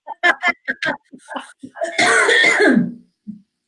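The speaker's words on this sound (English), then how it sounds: "I think I'm going to keep coughing." A person speaks briefly, then breaks into a harsh, drawn-out cough close to the listener, followed by a short throat noise.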